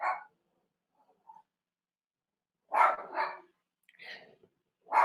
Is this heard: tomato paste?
no